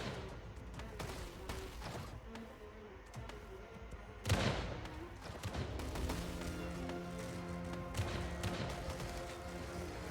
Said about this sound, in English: Yeah, these cannons are definitely doing work